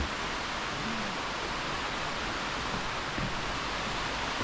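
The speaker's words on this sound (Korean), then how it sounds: "여기가 오련 폭포야" Oryeon Falls, a chain of five connected cascades deep in the Seoraksan mountains, gives off a steady, even rushing roar of falling water that holds constant throughout with no voices.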